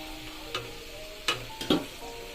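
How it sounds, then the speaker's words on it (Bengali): Potatoes sizzle in hot oil in a pan with a quiet steady hiss, while a utensil scrapes and clinks against the pan a few times as they are stirred, close by. "ভালো করে নেড়ে চেড়ে আলুটা ভালো করে ভেজে নেব"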